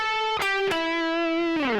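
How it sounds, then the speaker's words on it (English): Distorted electric guitar lick from a School of Rock tutorial: plucked notes with a short staccato bend, then a second bend held longer before gliding back down, close and loud with no talking. "You could do a staccato first bend, and then play the second one longer"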